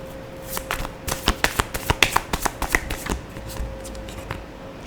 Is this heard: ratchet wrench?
no